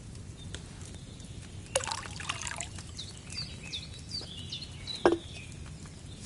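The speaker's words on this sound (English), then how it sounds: "So, what did you pour in there? Wine, of course." Wine poured into a cauldron in the game Kingdom Come Deliverance 2: a soft, steady trickle and splash of liquid over a low background, with a few faint bird-like chirps.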